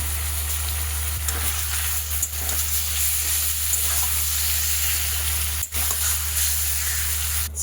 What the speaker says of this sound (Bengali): এবার আমি একে একে চিকেনগুলো ঢেলে ফ্রাই